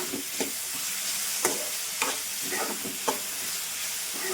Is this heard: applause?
no